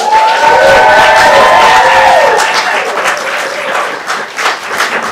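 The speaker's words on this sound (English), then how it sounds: "Can we just give a big round of applause to everybody that performed tonight?" A live audience claps and cheers for the night's performers at the Arts at the Arms show, a loud, dense burst of applause with whoops that tapers slightly toward the end.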